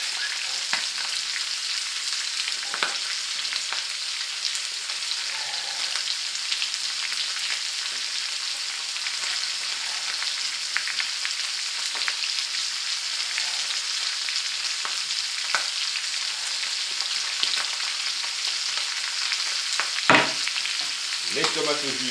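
Onions, carrots and garlic fry in a pan for a venison sauté, a steady broadband sizzle running throughout with occasional scraping stirs and a sharper clatter near the end, no voices.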